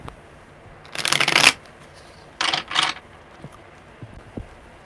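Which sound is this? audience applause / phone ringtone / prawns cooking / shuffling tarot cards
shuffling tarot cards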